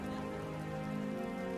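Rain begins falling on a rainy-day village market in a Bengali cartoon, a steady, even patter that fills the scene for under two seconds, with no voices over it.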